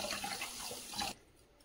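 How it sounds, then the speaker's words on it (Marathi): Rice is rinsed in water, a brief splashing, running-water wash for about a second before it cuts off to quiet, close and fairly soft. "हे तांदूळ आता आपल्याला स्वच्छ असे धुवून घ्यायचे"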